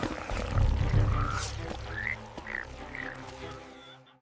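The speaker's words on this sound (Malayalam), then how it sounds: "തവളകൾ ദേശം മുഴുവൻ നിറഞ്ഞു." Frogs croak in a plague scene of frogs covering the land of Egypt: a cluster of deep, loud croaks opens, followed by a few rising, chirping calls in a steady run before it fades.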